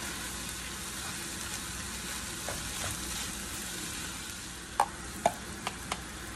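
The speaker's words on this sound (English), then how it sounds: "Mix it in very, very good." Green peppers and onions being stirred into BBQ baked beans give a steady, close, wet scraping hiss, broken by a few sharp spoon taps against the pot near the end; nobody speaks.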